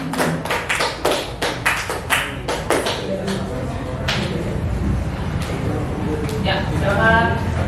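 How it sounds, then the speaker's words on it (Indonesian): A classroom group claps for students coming to the front at a junior high school, with a burst of sharp hand-claps at the start that thins out into scattered taps, followed by shuffling and talk. "Oke, tepuk tangan dong"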